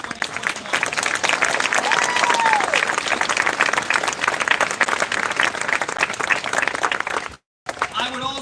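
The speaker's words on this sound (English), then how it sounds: "round of applause" A large crowd at a graduation ceremony applauds steadily and loudly for several seconds, dense clapping with scattered cheers, cutting out briefly near the end.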